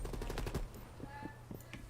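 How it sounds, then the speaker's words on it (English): Automatic gunfire from a weapon in the video game Call of Duty: Cold War, a rapid rattling burst that dominates the first half second, then fades into quieter game sounds with a few sparse later shots. "This gun that I'm using kicks like a son of a bitch for no reason at all."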